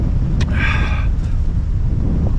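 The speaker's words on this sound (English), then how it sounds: "Well, that wind is pretty strong." Strong gusting wind buffets the microphone outdoors by the water, a heavy continuous low roar that never lets up, with a few faint higher squeaks briefly over it.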